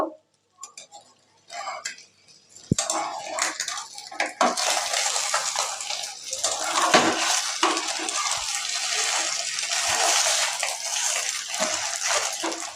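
An egg is flipped while frying in a pan alongside pasta in a village-style home kitchen, with a sharp clink of utensil on pan followed by sustained sizzling and scraping.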